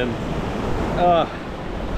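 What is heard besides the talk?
ocean waves on beach in Ahangama, Sri Lanka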